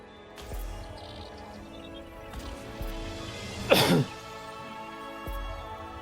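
One loud, sharp sneeze bursts out midway through a quiet live-streamed gaming session, standing out clearly against faint background sounds.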